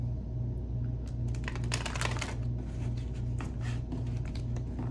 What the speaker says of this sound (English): let's go ahead and get started shuffling the deck